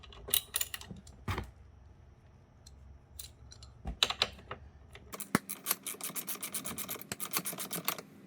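A T50 Torx bit working loose a seat belt mount bolt in a Subaru Legacy GT, giving scattered close clicks and scraping ratchet-like rasps, then a denser run of rapid ticking bursts near the end.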